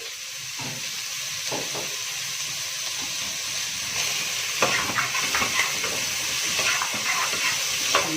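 Chopped onion and a little garlic fry in a pan with a steady, moderate sizzling hiss, broken by a few scraping stirs and clinks near the end, with no talking.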